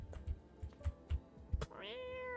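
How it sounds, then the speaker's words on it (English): A big cat in a video game gives a drawn-out meow near the end, preceded by a series of soft thumps and clicks, sounding close and distinct with no talk over it. "I can talk to the cat. This is, like I said, this is a big ass cat."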